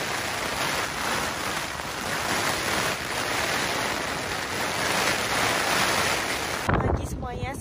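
Heavy rain keeps intensifying on a tent at a cold, gusty solo campsite, a thick, continuous roar mixed with wind buffeting the microphone, ending in a short, different sound just before the clip stops.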